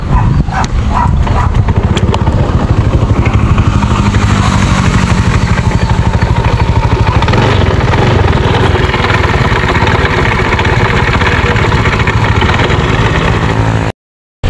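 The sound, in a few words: broken-down Honda motorcycle engine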